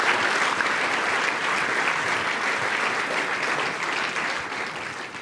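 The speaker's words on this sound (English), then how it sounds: "And I think just a round of applause," Sustained audience applause for speakers at an engineering lecture on fair AI, a steady dense wash of clapping from a large crowd lasting throughout without a break.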